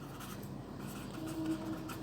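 A pen scratching across paper while working a math problem, a soft continuous close scrawl of strokes with no talk over it.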